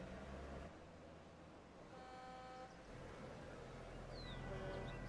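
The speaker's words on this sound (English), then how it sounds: "Oh, all this friggin' honking." Car horns honk in Jurassic World Evolution 2, several short toots at moderate distance over a steady hum of park ambience, with faint bird calls near the end.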